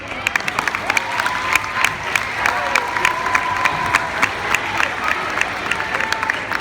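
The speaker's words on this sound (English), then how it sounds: "I'm glad you applauded for that" A school audience at Pinewood Middle School applauds a teacher retiring after 37 years, with sustained crowd clapping, sharp individual claps and some cheering running steadily throughout.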